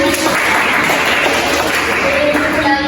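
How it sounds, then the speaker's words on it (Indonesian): Schoolchildren in a classroom break into dense, sustained applause, a loud wash of many hands clapping at once with no pause for nearly three seconds. "Ya, tepuk tangan."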